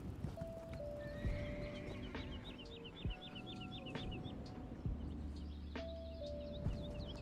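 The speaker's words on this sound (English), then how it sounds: "Look at this guy's horse." A horse in Elder Scrolls Online neighs and whinnies while hooves clip-clop at a steady walking pace, with birdsong and other game ambience around it; no voices.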